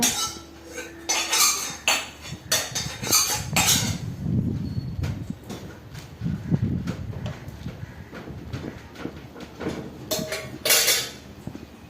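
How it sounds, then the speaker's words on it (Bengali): A small child plays with a metal wok and spatula, producing irregular clanks, scrapes and taps of metal on metal that come close and loud, with short pauses between bursts of banging. "সব সময়ের জন্য কড়াই খুন্তি নিয়ে কাজ খেলা করছে"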